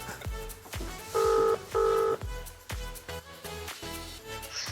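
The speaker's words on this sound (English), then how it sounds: "Gonna phone my girlfriend, let her know the good news." Two long telephone dial tones sound in succession, loud and steady with a short gap between them, set against a rhythmic background music beat as someone calls his girlfriend.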